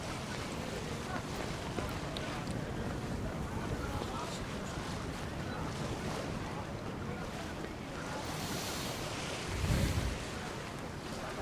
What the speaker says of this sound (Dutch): Met een stevige bries op iepen water